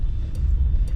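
A deep, booming bass throbs steadily from a loud sound system with a TK8000 power amp, with low rumbling thumps and faint traffic noise mixed in.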